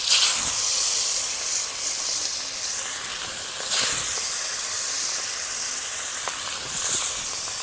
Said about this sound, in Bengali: তেল গরম হয়ে গেলে মাছগুলো হালকাভাবে ভেজে নেব।